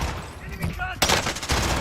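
Pistol shots in a military shooter video game, a sharp, loud burst of fire after a voice and game noise, followed by further crackling shots.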